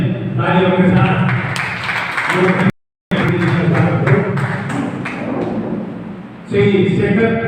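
An audience at a national club convention applauds to welcome a poet, steady loud clapping that cuts out briefly and then resumes, with voices mixed in.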